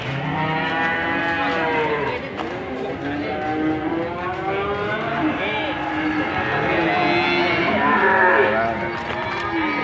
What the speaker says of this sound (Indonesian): Ini ada kumpulan sapi-sapi putih super-super dari Mas Randy